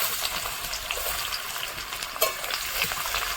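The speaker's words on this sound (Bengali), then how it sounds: "পেঁয়াজটা লাল লাল করে ভেজে নেব।" Chopped onion frying in a kadai, a steady close crackling sizzle with light stirring scrapes and a brief louder spatter partway through.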